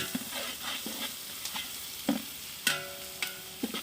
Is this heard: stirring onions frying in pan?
yes